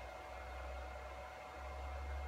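A Bridgeport J2 milling machine converted to a ClearPath servo drive spins fast at around a thousand RPM, giving a steady, continuous whirring hum with a low motor drone, heard alone and fairly close.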